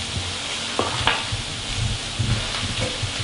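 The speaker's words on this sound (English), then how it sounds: "Give this a little stir here." Pine nuts toast in a pan with olive oil, giving a steady close sizzle while a utensil stirs them with a few scraping clicks and knocks, no talking.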